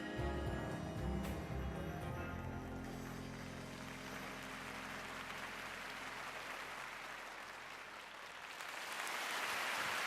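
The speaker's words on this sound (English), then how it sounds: "Sympathetic applause." A figure skating crowd at the NHK Trophy 2020 men's short program gives sympathetic applause, a soft, distant wash of clapping that follows a fading musical note and swells again at the end.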